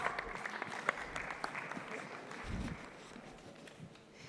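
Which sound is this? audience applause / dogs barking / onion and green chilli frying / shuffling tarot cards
audience applause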